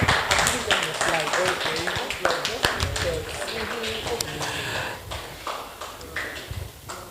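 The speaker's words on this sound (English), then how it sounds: "Keep clapping. Keep clapping." Summer camp crowd clapping loudly and steadily throughout, a dense patter of hands close by with voices mixed in.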